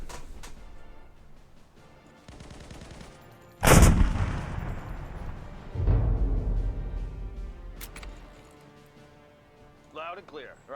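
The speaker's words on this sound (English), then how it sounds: "Begin bombardment." Artillery bombardment in the Anno 1919 video game: two heavy booms a couple of seconds apart, each followed by a rolling rumble, with lighter clatter and voices around them.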